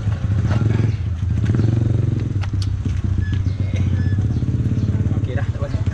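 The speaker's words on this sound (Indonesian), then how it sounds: "Jom kita naik ke motor, nanti kita test kat highway." Motorcycle engine idling and revving before heading off toward a highway, a loud steady rhythmic exhaust throb with clattering mechanical noise throughout, under people talking nearby.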